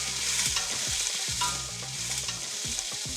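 Prawns frying in a hot pan for a Sri Lankan dish, a continuous close sizzle broken by repeated scraping stirs of a spoon against the pan.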